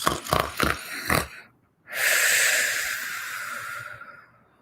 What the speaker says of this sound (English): Baba Yaga was asleep inside, snoring through her long nose.